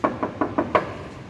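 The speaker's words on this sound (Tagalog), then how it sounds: "May kumakatok na kay lakas." Five loud, sharp knocks on a door come in a quick, evenly spaced series, close and alone with no talk.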